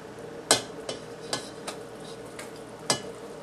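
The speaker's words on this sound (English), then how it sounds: "mix this together until the butter dissolves" A utensil mixes butter into hot dissolved sugar in a pan with the stove switched off: a few sharp, distinct scraping knocks spaced irregularly over a quiet background, close and fairly crisp.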